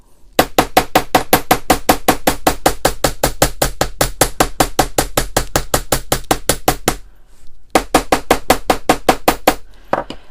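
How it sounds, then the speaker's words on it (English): Steady, rapid metal hammering on a wire frame pendant being flattened, dozens of even sharp taps close up, pausing briefly near the end before resuming. "You want to hammer nice and evenly."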